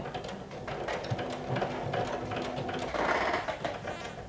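Sewing machine stitching slowly through a bulky flannel shirt hem over the placket, thick with layers and interfacing; a steady close mechanical whirr and rattle with ticking needle strokes, running alone.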